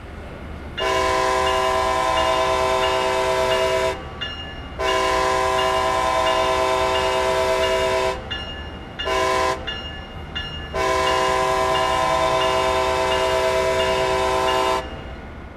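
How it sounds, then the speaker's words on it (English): A loud Boston Sprinter locomotive horn in Train Sim World 3 blows in long sustained blasts, one short blast between them, with a steady low rumble underneath throughout. "The horn sound is acceptable"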